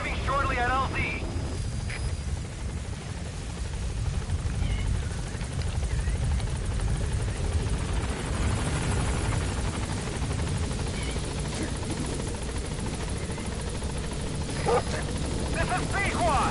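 A support helicopter in Metal Gear Solid V approaches a landing zone, its steady rotor drone filling the whole stretch at moderate loudness, with short radio-style speech and a few faint dog-like yaps over it.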